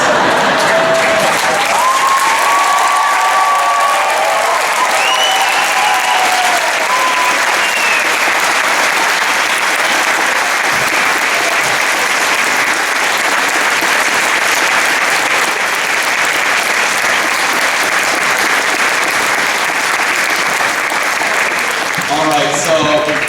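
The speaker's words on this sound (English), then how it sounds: "So I want your best applause for the percussion and only some of the tubas." A large concert audience at a 2016 conference band performance applauds loudly for the percussion section, a dense sustained roar of clapping with some whoops and voices mixed in, continuing steadily for over twenty seconds.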